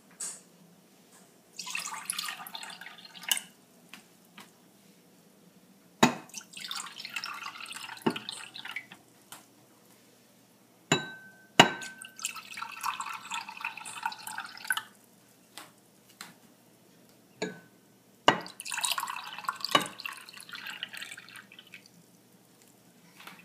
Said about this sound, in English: you will need to transfer the water in the appropriate cups